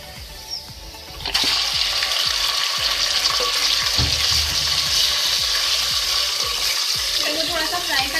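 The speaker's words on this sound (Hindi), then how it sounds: "थोड़ा सा फ्राई कर लें।" Chicken frying with onions in a pan for a green onion chicken dish: a loud sizzle bursts in after a quiet start and stays steady, with stirring scrapes and clinks throughout.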